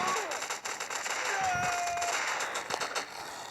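Rapid gunfire bursts from a zombie shooter game, Ck Zombie 2, crackle almost continuously with metallic clangs and a faint rising tone mixed in.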